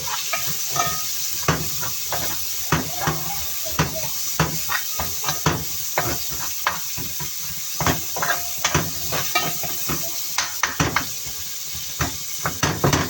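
Onions and liver being stirred in a frying pan, with a scraping spoon clattering in a quick, irregular rhythm over a steady sizzle and hiss of frying, close and fairly loud, with no talk.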